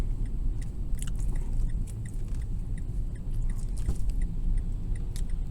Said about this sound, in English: here comes this fucking tour bus on my nuts